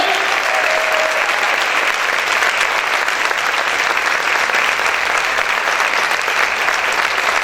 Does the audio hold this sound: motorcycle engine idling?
no